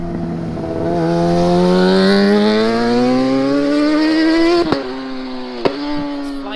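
Renault Megane RS engine idling and revving with a rising harmonic drone, followed by two sharp exhaust pops near the end, loud and close.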